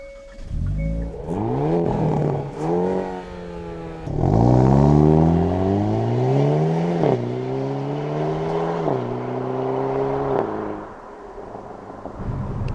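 Hyundai Kona N engine revving loudly through repeated gear changes as the car is driven hard, rising pitch sweeps up then dropping at each shift, continuous and close.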